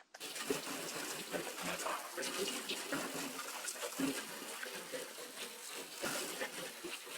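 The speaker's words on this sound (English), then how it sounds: "This isn't a power wash, it's just a garden hose." A plain garden hose, not a power washer, sprays water onto a muddy car, giving a steady rushing hiss with irregular splashes and spatters as the stream hits the bodywork.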